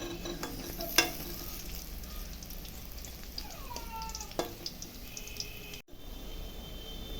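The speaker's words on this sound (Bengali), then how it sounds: "বড়াগুলো উল্টিয়ে দেবো একদিকে ভাজা হয়ে গেছে" Pointed gourd dhoka fritters frying in a pan give a soft continuous sizzle with a few clinks and turning sounds, and a cat meows briefly in the background.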